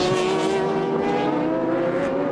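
A Super GT race car at the Fuji 300 km round in 2006, its engine holding a loud, sustained high-pitched whine with a faint shifting of pitch, close and continuous with no voices.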